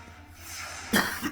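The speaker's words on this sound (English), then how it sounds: "A little cough and a chuckle" A single short cough bursts out near the end of a brief moment of quiet room tone, followed by a faint second huff, close and fairly soft.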